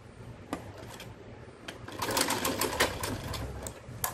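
A home sewing machine stitches a salwar in short runs of rapid needle chatter, loudest in the second half, with quiet pauses between the bursts.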